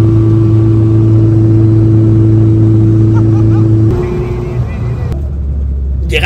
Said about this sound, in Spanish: Vamos con un coche de carreras que además de sonar mucho